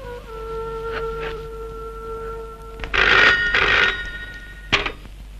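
An old-style telephone bell rings in an automobile office in two short bursts, followed by a shorter third ring, clear and close over a low background hum.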